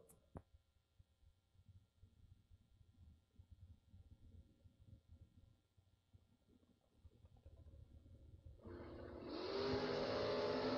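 Drag race cars, a T-Bird against a Camaro, launching at a drag strip: faint low rumbling idle for several seconds, then a sudden loud, roaring engine rise that builds toward the end.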